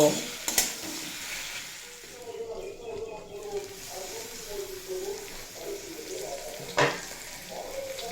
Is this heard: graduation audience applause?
no